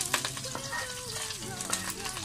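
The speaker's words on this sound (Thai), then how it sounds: "เอาละค่ะปูก็สุกแล้วนะคะเดี๋ยวเราก็จะผัด" Crab is stir-fried with garlic in a pan for a curry powder crab dish, with continuous close, loud sizzling and frying broken by scraping stirring strokes.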